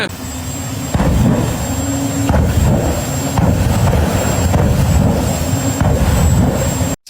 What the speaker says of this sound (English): Is this a jet-powered smart car?